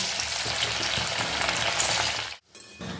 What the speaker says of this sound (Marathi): तेल कडकडीत गरम झालेलं आहे. आता यात मी या भजी सोडून घेते.